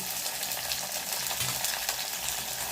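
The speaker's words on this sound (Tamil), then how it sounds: "சேர்த்து நல்லா வதக்கி கொடுக்கணும்" Tomatoes and salt sautéing and being stirred in a pan for garlic-fenugreek kuzhambu, a close, even sizzle with soft scraping of the spoon, no voices.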